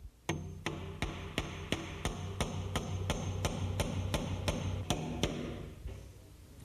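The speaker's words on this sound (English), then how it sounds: "And then nail it up." Steady hammer blows drive 8-penny finish nails into a bathroom door jamb, about two strikes per second, close and sharp over faint background hum.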